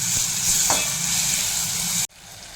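Onion, tomato and a little coriander are sautéed in a pan for Malvani egg masala, producing a loud steady sizzle with one stirring scrape, then an abrupt cut to a quieter sizzle.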